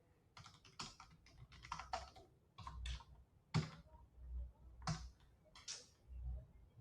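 Computer keyboard keys tapped in short irregular bursts while a password is typed, close and clear, with several louder single key strikes standing out between quieter runs of clicks.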